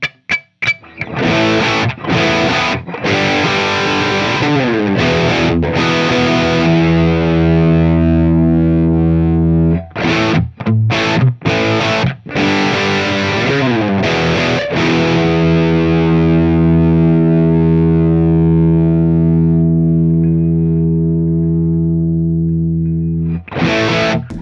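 Epiphone electric guitar fitted with Seymour Duncan pickups, played through an FM9 JCM800 amp preset: loud distorted chords rung out and sustained, with short choppy stabs and pauses between phrases.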